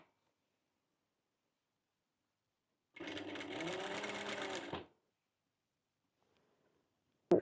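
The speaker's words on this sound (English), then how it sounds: "I'm starting to sew from the small piece." A sewing machine stitches a small piece of fabric for a thrift-store clothing remake, running in one steady burst of about two seconds, close and clear, then stopping into silence before a single sharp click.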